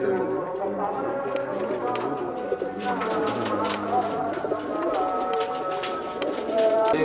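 Pure Rajan-breed racing pigeons coo continuously nearby while someone talks over them.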